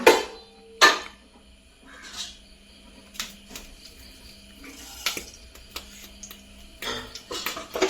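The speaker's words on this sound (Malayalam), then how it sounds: "ഇനി ഇത് കടുവെല്ലാം ഒന്ന് പൊട്ടട്ടെ" Scattered sharp pops and crackles of mustard seeds bursting in hot coconut oil, irregular and fairly close, with no talking.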